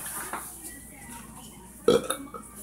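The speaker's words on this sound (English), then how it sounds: "it's a terrible thing when you get a burp stuck in you and can't get it out" A single loud burp erupts near the end, standing out clearly above a quiet background.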